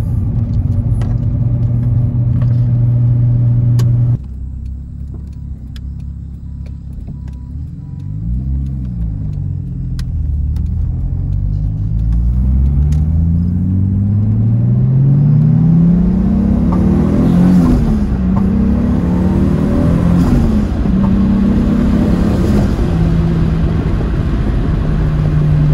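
A 6-speed MK2 Toyota Supra engine runs close and loud, idling steadily, then dropping in pitch before rising through repeated revving as the car accelerates and shifts while driving.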